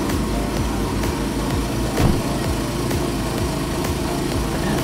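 A car engine idles steadily in a garage through a new OEM Plus exhaust, a constant low rumble that stays fairly quiet and even, with one brief bump midway.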